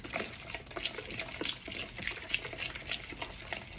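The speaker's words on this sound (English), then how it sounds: "Then we add the lemon juice. Then the salt and pepper. Mix it." A sour cream dip of crème fraîche, lemon juice, salt and pepper stirred in a bowl: close, wet clicking and scraping strokes in a quick, uneven rhythm, with no voices.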